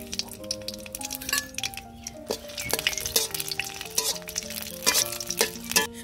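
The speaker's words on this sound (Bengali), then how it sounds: "শুকনা মরিচ ভাজা শেষ, এখন নামিয়ে নিব।" Dried red chillies fry in mustard oil in a wok, giving a steady crackle and sizzle with frequent stirring clinks and scrapes of a spoon against the pan, close and moderately loud, with no talking.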